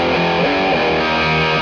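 A sustained, heavily distorted electric guitar chord from a Schecter Omen Extreme-6 through an Orange Rockerverb 50 Mark III tube amp rings out loud and steady, with a thick saturated amp tone and no voices.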